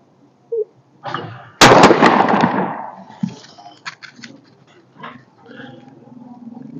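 Two sharp shotgun blasts from a double-barrel during outdoor skeet shooting, the first heavy report followed by a second crack, both with long rolling echoes and some faint voices around.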